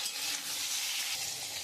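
Potatoes, ginger, bay leaf and tomato frying in oil for a rohu fish curry, a steady dense sizzle that carries on throughout with light stirring.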